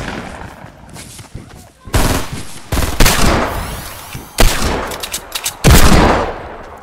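Fortnite gunfire in sharp, loud bursts and rapid volleys, some near and some more distant, broken by brief lulls, with people talking in between.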